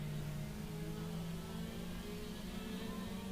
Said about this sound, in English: George Riley Jr.'s got it down to about 3 car lengths as they head down through turns 1 and 2.